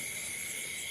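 Crickets chirping at night outside a house in rural Thailand, a steady dense high-pitched trill that fills the background without a break, with no voices.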